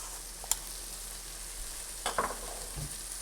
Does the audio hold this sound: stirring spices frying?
yes